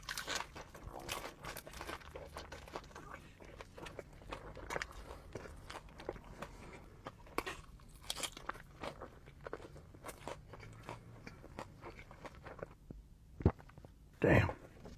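Close crunching bites and chewing on crispy birria shells with a soft inside, a string of short crisp snaps and moist chomps under faint background noise, with a louder burst near the end.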